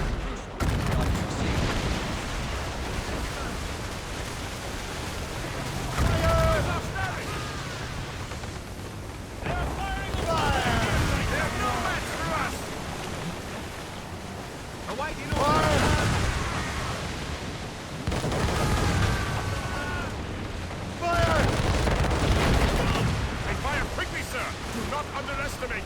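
Mortars fired from a sailing warship during a naval battle in Assassin's Creed Rogue, with heavy booming volleys arriving in waves every few seconds, each burst rumbling and then fading under a constant wash of wind and sea noise.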